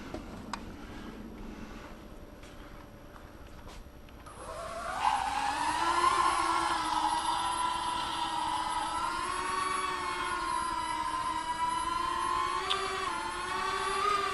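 An AirHogs Millennium Falcon toy drone spins up with a rising electric whir that settles into a steady, fairly loud motor hum, its pitch wavering slightly as it hovers.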